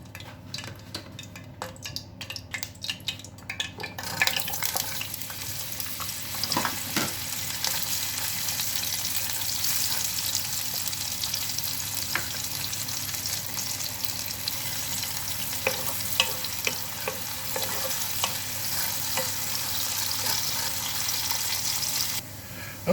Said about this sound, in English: Get that warmed up, and we're going to start cooking our mushrooms.